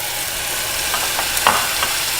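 White navy beans and yellow onion cooking in a pan, a steady close sizzle with a few brief scraping stirs near the middle, no talking.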